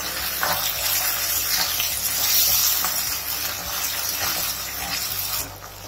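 Water poured into a pan of sauce for paneer chilli cooking on a medium flame, a continuous loud hissing splash and sizzle that runs throughout and drops off near the end.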